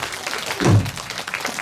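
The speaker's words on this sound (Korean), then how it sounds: "큰 박수 부탁드리겠습니다." Audience at a pansori performance gives a brief burst of applause, swelling for a moment at close range before fading back under the room noise.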